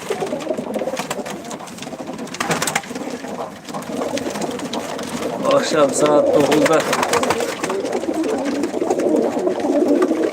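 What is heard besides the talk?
birds cooing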